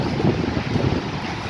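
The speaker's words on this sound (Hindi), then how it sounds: "मज़े मज़े की हवा चल रही है, ठंडी ठंडी" Cool wind blows steadily outdoors, buffeting the microphone with a loud, continuous rumbling gust and no talk.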